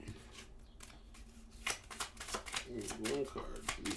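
Playing cards are shuffled by hand for a tarot-style card reading, producing bursts of riffling flutter and soft slaps that grow busier toward the end, heard close up beneath a speaking voice.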